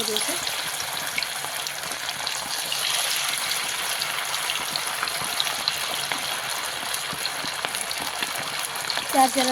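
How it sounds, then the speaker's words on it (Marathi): Chicken 65 pieces sizzle steadily in hot oil as a continuous, even frying hiss with no talking over it. "आपण ह्याच्यामध्ये आता एक एक करून सोडून घेऊया कडक कडक तेल"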